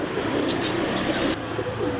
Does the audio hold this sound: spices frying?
no